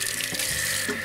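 Hot water runs steadily from a tap into a container, filling it with a continuous close hiss and splash.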